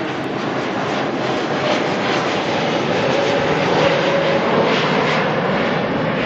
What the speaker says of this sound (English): We also have a 321 Neo coming on in from Tonga